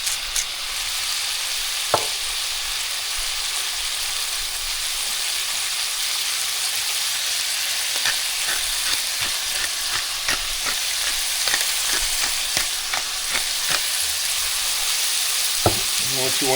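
Beef browning in a pan with salt and pepper, a steady broad sizzle running throughout with faint stirring and scraping clicks scattered across it.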